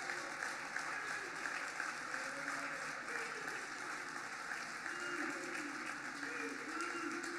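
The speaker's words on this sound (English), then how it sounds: "if we can just give Brother Steve Vassor another round of applause" A roomful of people applauds Brother Steve Vassor at the Rumble Young Man, Rumble! gathering, a dense, steady clapping that fills the space evenly, with voices underneath.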